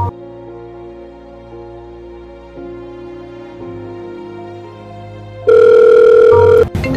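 A telephone signals an incoming call with a steady electronic tone that grows louder and sharper near the end, sounding alone without any talk.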